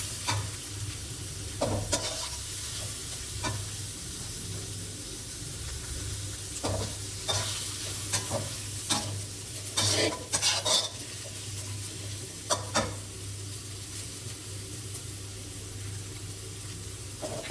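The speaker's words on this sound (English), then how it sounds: "When the egg is firm, stir it all a little." Tom yum instant noodles with egg, prik pao sauce, galangal and lemongrass being stir-fried in a pan, with a steady low sizzle under repeated scrapes and clinks of a utensil against the pan, close and fairly loud.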